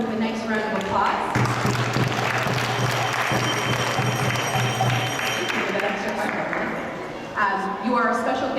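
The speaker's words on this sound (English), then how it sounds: "we can welcome them with a nice round of applause" A temple audience at a Sunday feast breaks into sustained clapping to welcome first-time guests, while a voice talks over the applause before it fades near the end.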